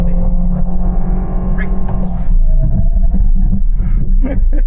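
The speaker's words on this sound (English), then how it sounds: "So we're in the Toyota Vios now. We're going to do a drag race between the S70 as well as the Honda City" Toyota Vios sedan accelerating hard in a drag race against a Proton S70, a loud close engine roar heard from inside the cabin, rising in pitch through the run with a brief shift around the middle.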